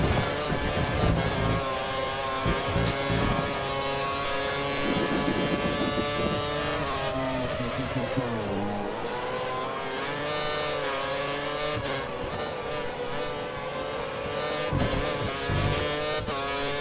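Formula 1 car engine from the F1 2013 racing game, a Sauber in a race at Germany, screaming at high revs with steady harmonic whine that dips as it slows for a corner and climbs again, loud and continuous with no talk.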